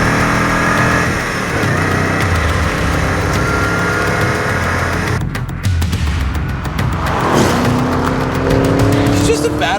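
Engine roar of a Chevrolet Camaro sports car driving, a continuous loud road-and-engine drone with rising revs, heard from inside the car under a man's speech.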